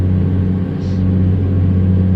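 Steady low rumble of a 150 hp old-school Peterbilt truck engine in American Truck Simulator, a constant loud drone with a brief soft hiss partway through and no talking.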